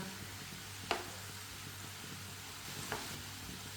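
Homemade Ramadan rolls fry in a pan over low heat and get turned, giving a steady close sizzle with two brief sharp clicks as they are flipped.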